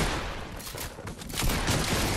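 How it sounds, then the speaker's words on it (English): Gunfire in the video game Fortnite, a dense rattling burst of shots running continuously for a couple of seconds, loud and close with no clear gaps and no voices over it. "Where are all my shots going?"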